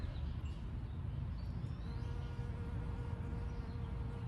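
A bee buzzes steadily and close among flowers still blooming in a late-June garden, a continuous drone with no talking over it.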